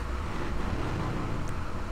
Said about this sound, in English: if I get in, it literally sounds like a semi truck